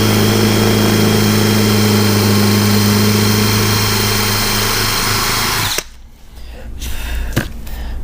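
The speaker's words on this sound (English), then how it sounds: "This one takes a little time because you got to drill down" A power drill whines steadily and loudly for several seconds while drilling into a stripped screw, then cuts off abruptly, leaving quieter background noise with a couple of brief knocks.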